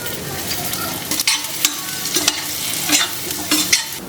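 Dates fry in ghee for winter laddu, a close crackling sizzle broken by repeated scraping strokes of a spoon stirring the pan, with no voices.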